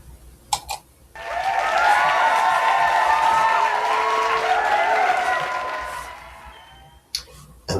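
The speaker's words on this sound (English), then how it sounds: "And the crowd goes wild." A crowd bursts into sustained cheering and applause, loud and dense for several seconds before cutting off abruptly, with a few brief clicks at the start and end.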